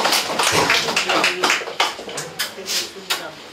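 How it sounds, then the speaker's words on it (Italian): Audience applause for a poet at a World Poetry Day reading in Rome, a dense run of claps sounding fairly close and steady for a few seconds, then thinning into scattered claps. "Un grande applauso."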